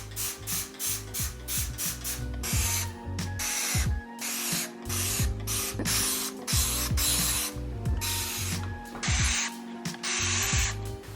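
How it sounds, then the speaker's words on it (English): Repeated spritzes from a trigger sprayer of Dawn Power Wash degreaser onto a 30-year-old KitchenAid mixer, each burst a close, hissing pump with a mechanical click, firing in a quick steady rhythm through the clip with no talk. "Dawn Power Wash, we're gonna spray it because this stuff has like sticking action"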